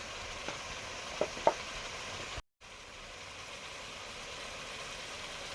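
Spices such as roasted ground cumin and coriander fry quietly in a pan before meat goes in, a faint steady sizzle with a couple of small clicks and a brief dropout, no talking.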